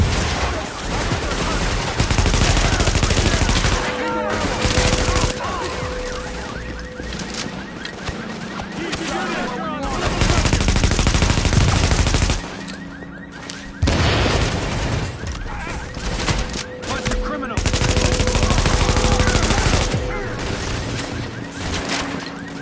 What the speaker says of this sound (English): JTF are taking fire and need backup.